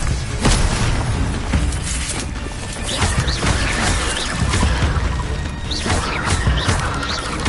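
Incendio fire spell effects in the Hogwarts video game, loud whooshing bursts and crashing impacts over a continuous roaring layer, with no voices.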